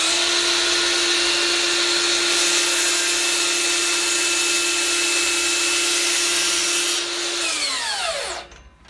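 A DeWalt FlexVolt cordless miter saw runs as a loud, steady motor whine for about seven seconds, then spins down and falls quiet near the end.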